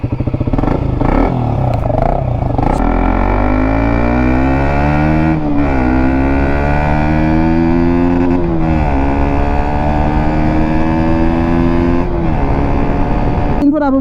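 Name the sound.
RC125 BS4 motorcycle engine running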